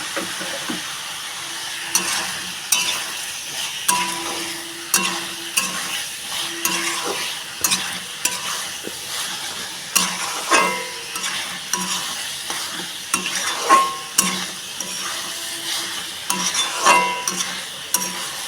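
Potatoes and okra, already fried, are stir-fried in a spice masala, giving a steady sizzle with repeated spatula scrapes and stirring clatter against the pan, close and alone throughout.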